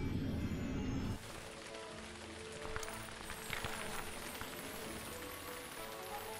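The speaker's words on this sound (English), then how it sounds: "It's raining." Rain falls in the Lego Harry Potter Collection video game on Nintendo Switch, near a Quidditch area. A soft, steady hiss of rain on surfaces enters after a brief lower rumble and continues at a low, even level.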